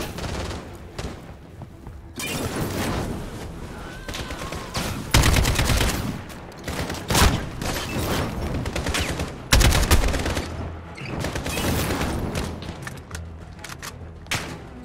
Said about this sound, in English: I will never be able to get over the sound of these guns. They sound so amazing.